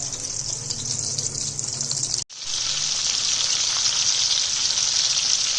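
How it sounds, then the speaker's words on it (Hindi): Chicken seekh kebabs fry in a pan with a steady, loud sizzle that drops out for a moment and then resumes just as strongly, with no talking. "अब मैं इनको फ्राई करूंगी।"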